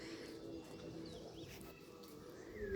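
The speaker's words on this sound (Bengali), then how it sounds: "দেখুন পাখি ডাকছে" Birds calling in the hills of Sikkim near a Hanuman temple, faint thin whistling notes and a soft coo drifting over a quiet outdoor background.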